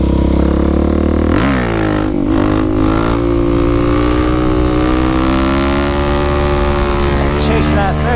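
A Suzuki DR-Z dirt bike engine revving hard and pulling up through the gears, loud and close with rising pitch sweeps and brief dips at shifts, wind buffeting throughout.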